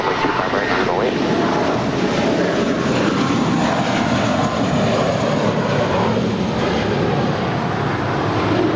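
An American Airlines plane takes off from runway 25 right at LAX, its engines a steady loud broadband roar that holds for the full stretch, with no one talking over it.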